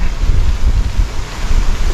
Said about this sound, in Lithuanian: Baigiam priprast ir prie vėjo